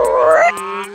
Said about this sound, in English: Dottie's a spotted humming frog